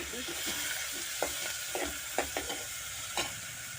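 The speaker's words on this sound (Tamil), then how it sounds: "இந்த அரைச்சி வச்சுருக்கோம்ல அது அப்படியே போடணும் போட்டுட்டு ஒரு பரட்டி பரட்டி" A spatula scrapes and stirs a thick ground paste in a pan, with a few sharp scraping strokes over a soft, steady sizzle.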